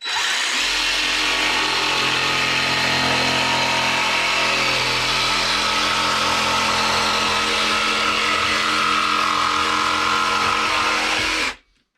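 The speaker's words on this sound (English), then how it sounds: "I've got a cordless jigsaw because I don't like to cut through my own cord" A cordless jigsaw with a standard wood blade cuts through a wooden model railway baseboard, a loud, steady buzzing motor rasp that carries on unbroken for about eleven seconds and then stops abruptly.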